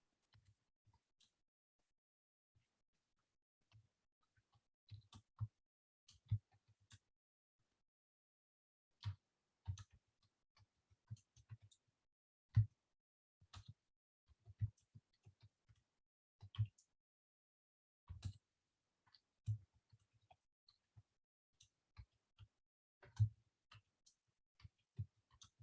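Faint, irregular keyboard typing: sparse light clicks and taps scattered across the stretch, some in quick clusters, others separated by short pauses, close but quiet with no voices.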